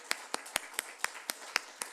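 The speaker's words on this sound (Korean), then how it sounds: "우리 환영의 박수로 온전히 드렸어요" Welcoming applause at an evening church prayer meeting: eight sharp, evenly spaced claps at moderate volume, each a crisp transient with quiet gaps between, no talk.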